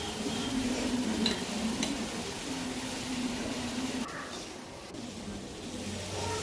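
Prawns in a masala of ground chili powder being stirred in a pan on the stove, with a steady close sizzle and spoon scraping running throughout, no voices.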